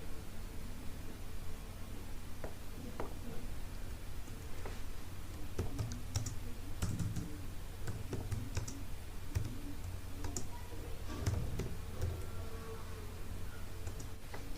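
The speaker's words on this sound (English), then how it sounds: "in the space provided for typing text, you want to type" Typing on a computer keyboard to enter text in GIMP software: a quiet run of light, irregular key clicks, denser in the middle, over a faint steady background hiss.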